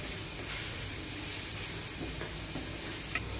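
Onion frying in a pan for aloo paratha filling, a steady soft sizzle and hiss at low level with no talking.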